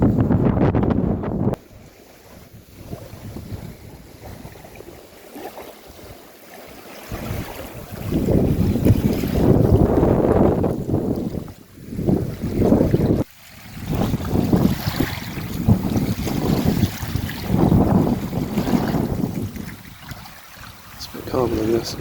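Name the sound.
bitterly cold wind at the coast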